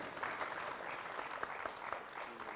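An expo audience claps for a speaker, a short, faint but steady burst of many hands heard from some distance.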